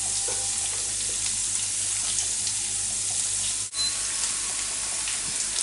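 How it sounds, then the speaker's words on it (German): Spring onions sautéing in olive oil in a pan give a continuous close sizzle and hiss, steady and even, with a brief dropout partway through and no talking. "Und da werden meine Frühlingszwiebel angedünstet."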